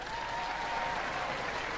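A brief burst of steady audience applause at a televised robot combat competition, a dense continuous wash of clapping at moderate level.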